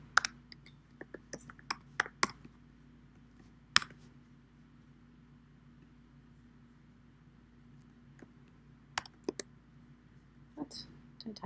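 Computer keyboard typing while entering formulas into an Excel spreadsheet: sparse bursts of sharp, faint key clicks separated by quiet pauses, with some low speech in between.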